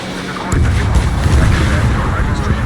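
A missile explosion takes down an enemy aircraft during an Ace Combat 7 air battle, heard as a sudden loud, deep boom that rolls into a sustained heavy rumble lasting a couple of seconds.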